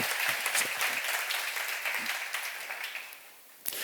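Audience applause fills the room at a Korean church seminar, a steady wash of many hands clapping that fades slightly toward the end, with one sharp clap near the close.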